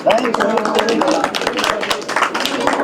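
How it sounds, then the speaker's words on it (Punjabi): Applause from an audience at a Punjabi film premiere greeting an honoured guest, steady dense clapping throughout with a voice partly over it. "ਸਾਡੇ ਇੱਕ ਵਾਰੀ ਜ਼ੋਰਦਾਰ ਤਾੜੀਆਂ ਨਾਲ ਤੇ ਲਾ ਦਿਓ"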